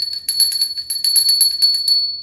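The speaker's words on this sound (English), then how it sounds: "Get out my favorite squirrel bell." A small squirrel-shaped bell is shaken in quick bursts, its bright high tinkling repeating in an irregular rhythm, close and loud, with no talk over it.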